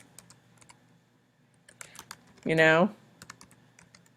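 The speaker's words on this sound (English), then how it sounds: "I'm going to type in that the username" A few soft, scattered key clicks as a username is typed on a computer keyboard, quiet and close, with a short spoken word breaking in partway through.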